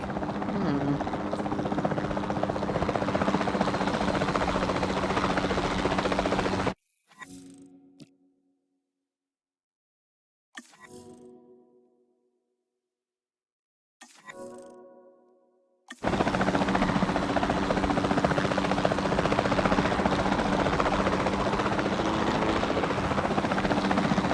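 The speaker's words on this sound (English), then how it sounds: "the sensible thing is to take a capture team helicopter" Capture team helicopter in Jurassic World Evolution 2: steady, loud rotor thrum and whine filling the scene, cutting out for a few seconds with only brief bursts before the rotor roar returns.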